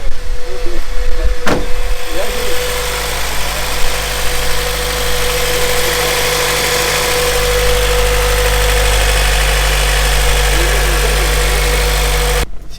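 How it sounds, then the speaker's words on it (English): A Honda Civic Type R EP3 engine runs steadily at idle, a loud close mid-pitched hum with a constant tone and one brief knock early on, alone without talk. "Let's get the sound of the engine."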